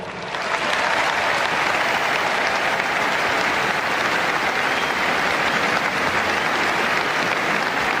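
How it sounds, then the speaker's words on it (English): A large stadium crowd at a rugby match between Australia and England gives a sustained round of applause, dense and loud, holding steady throughout without pause. "We ask you that you join us now in a moment of celebration with a round of applause for Coley."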